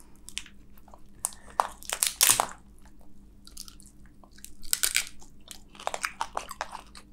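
Close, crisp crunching and wet chewing of spicy seafood lobster from a giant king lobster, bursts of bites and mastication coming in clusters with quiet pauses between, no talking.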